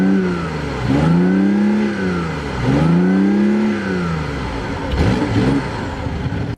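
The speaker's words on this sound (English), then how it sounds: "the sound of the gas motor is pretty aggressive for a 3-cylinder" A BMW i8's three-cylinder gas engine revs repeatedly, loud and near, in rising and falling sweeps, three throttle blips with an aggressive raspy tone.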